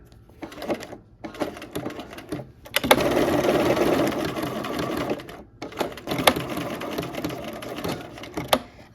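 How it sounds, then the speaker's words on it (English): A sewing machine tacks down appliqué leaves with a buttonhole stitch in short bursts of rapid mechanical clatter, broken by brief pauses, with one longer continuous run in the middle. "now I'm just going and tacking down the leaves here with my buttonhole stitch"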